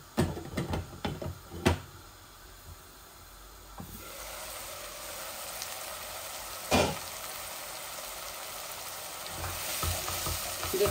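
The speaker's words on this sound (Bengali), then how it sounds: "আমার ডিমটা আস্তে আস্তে ভাজা হোক।" An egg fries slowly in a pan with a low, steady sizzle, broken by a few sharp clinks and scrapes of a utensil early on and a louder scrape midway.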